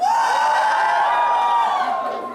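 A concert audience at a show in Moscow cheers and shouts loudly as a single sustained roar, easing slightly toward the end.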